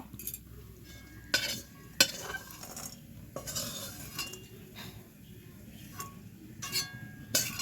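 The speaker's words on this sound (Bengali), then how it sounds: "নারকেলটাকে আমি এবার তুলে নেব।" Fried coconut being scooped out of a wok, close scraping and stirring with several sharp metallic clinks of a spatula against the pan, fairly quiet and irregular, with no talking.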